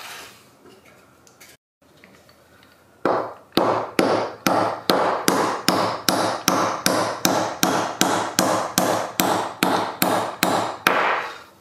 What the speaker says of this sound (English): This is a lead hammer, by the way, so it's not gonna mar up these bronze bearings.